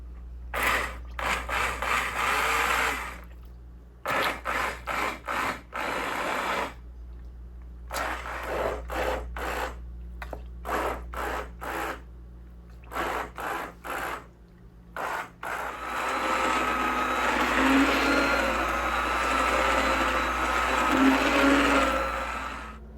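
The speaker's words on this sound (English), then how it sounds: "I think this immersion blender will be the easiest today." Immersion stick blender whirring through keto food, running in many short pulses of a few seconds each, then settling into one long continuous blend near the end, loud and close with no talking.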